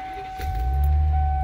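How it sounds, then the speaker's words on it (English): Engine of a 1999 Airstream B190 camper van cranking up, a short start that settles into a low, steady idle rumble, heard close inside the cab. "All right, cranks up first try."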